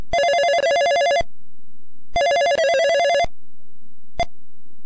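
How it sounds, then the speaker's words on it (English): An electronic telephone rings after a number is dialed in the EGA computer game Police Quest 1. Two loud, buzzy rings are separated by a pause, and a third ring cuts off almost at once. "let's make a phone call then"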